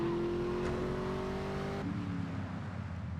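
A steady engine drone holds a high whine, then drops in pitch partway through, like a car engine revving and shifting gear in GTA: Vice City.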